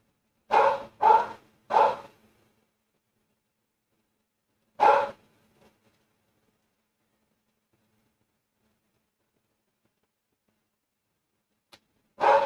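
A dog barks in short, loud bursts: three quick barks, a single bark a few seconds later, then another after a long stretch of silence.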